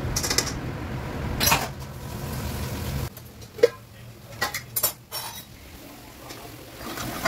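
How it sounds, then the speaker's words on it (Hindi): Masala for a bottle-gourd kofta gravy frying in a pan gives a steady close sizzle, then quieter stretches broken by a few sharp clinks and scrapes of stirring. "तो अब मैं इस मसाले को भून रही हूँ।"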